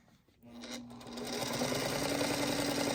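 A sewing machine joins scrappy quilt block pieces with a quarter-inch seam, starting with a brief pause and then running in a continuous fast whirring hum that builds and holds steady and close.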